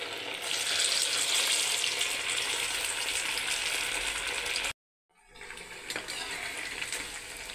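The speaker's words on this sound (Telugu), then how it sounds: "ఇందులోకి మనము ఇలా ఉంటలు చేసుకున్న వాటిని ఒక్కొక్కటిగా అన్నీ దీంట్లో వేసుకుందాం." Sago vadas fry in hot oil with a loud, steady sizzle and crackle close by. The sound cuts out briefly, then the bubbling resumes slightly quieter.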